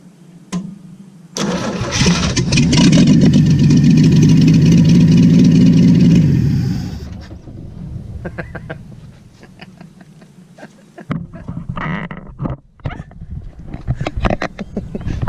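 A Willys truck engine cranks and catches, roaring loudly for several seconds before settling into a steady idle, with a few clanks and brief handling noises near the end.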